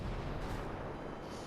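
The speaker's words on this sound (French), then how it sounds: "Il y a un mortier qui veut me tuer" Mortar fire in the video game Ghost Recon Breakpoint: a heavy, rumbling detonation with deep low-end boom that rolls and decays across the moment, loud and close with no voices over it.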